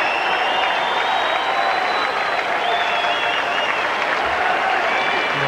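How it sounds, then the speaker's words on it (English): A tennis crowd at the U.S. Open applauds both players, Pete Sampras and Alex Corretja, in a steady, full wash of clapping mixed with faint cheers that holds without a break throughout. "A well-deserved round of applause for both players here."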